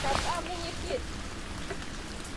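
Rain falls steadily in the village of Geamăna near Roșia Montană in the Apuseni Mountains while people shelter, a constant broadband patter under brief nearby speech.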